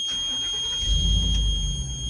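A Class B truck's engine cranks and catches during an air brake test, a low rumble swelling in after a second and settling into a steady idle, close and fairly loud, with a faint high whine above.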